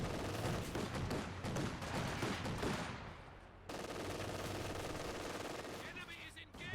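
Machine-gun fire from a 2-2 unit in a WWII strategy game, rapid bursts of rattling shots crowding the first half, then a sudden cut to steadier, sustained battlefield gunfire and din, fairly loud.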